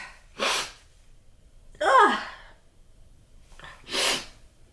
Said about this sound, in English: I couldn't stop sneezing for about an hour and a half.